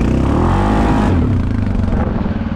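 A Suzuki KingQuad 750 ATV engine revs up and then settles at a steady RPM, sounding close and loud, with a mechanical clatter underneath.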